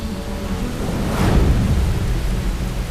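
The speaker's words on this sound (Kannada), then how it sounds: "ಧಾರಾಕಾರ ಮಳೆ ಮತ್ತು ಗಾಳಿಯಿಂದ ಉಂಟಾದ ಭೀಕರ ಪ್ರವಾಹದಲ್ಲಿ" Dense roar of heavy typhoon rain and wind in Japan, swelling briefly louder midway, a constant wash of storm noise with no voices.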